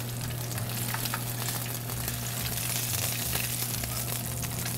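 Tuna steak searing in a hot pan, a loud, steady, close sizzle and crackle of frying that fills the whole stretch without letting up.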